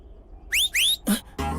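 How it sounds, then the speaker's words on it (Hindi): A woman whistles several short rising notes, bright and close, in quick separate bursts, with a brief low thump and a noisier burst at the end. "किस लिए सीटी बजा रही हो?"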